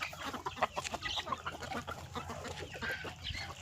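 Desi country chickens on a village poultry farm clucking in a busy, continuous flock chorus at close to moderate range, with overlapping calls and no talk.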